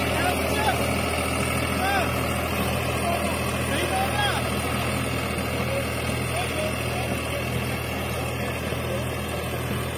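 A New Holland 3600-2 tractor driving a new rotavator at a steady 1600 rpm, with a loud continuous engine drone and dense mechanical rumble throughout, a voice faintly under it.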